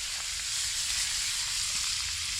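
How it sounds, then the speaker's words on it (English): Steak frying in melted butter in a pan over a campfire outdoors, a loud, steady close-up sizzle and hiss that carries on without a break. "we got us some lovely butter melting away, and in goes that steak to brown off a little bit"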